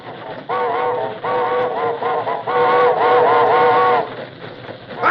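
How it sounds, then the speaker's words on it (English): A radio-drama train whistle sounds in several long, chord-like blasts with short breaks between them, loud and close over a low rumble of the moving train, with no talk while it blows. "Blow the whistle."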